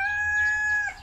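A rooster on a chicken farm crows in one sustained, strained call with steady harmonics that breaks off near the end, over low background rumble.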